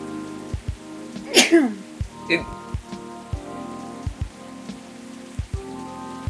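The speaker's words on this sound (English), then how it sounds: "I had to sneeze" A single sharp sneeze from a person rings out over faint background tones and scattered soft clicks, followed by a quieter second burst.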